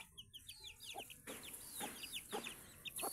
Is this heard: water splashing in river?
no